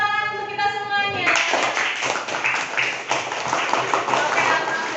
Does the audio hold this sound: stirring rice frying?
no